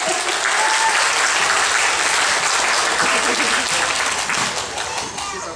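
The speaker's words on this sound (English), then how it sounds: "let's give Malawi a nice round of applause" A crowd at a live animal show claps steadily, a dense, loud wash of applause that holds for several seconds before tapering slightly at the end.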